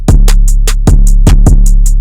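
Programmed FL Studio drum loop with hi-hats in a two-step pattern, steady evenly spaced bright ticks over loud repeating deep kicks, alone and close.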